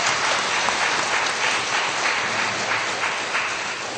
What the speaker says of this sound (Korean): 우리 하나님 앞에 뜨겁게 박수를 영광 돌립니다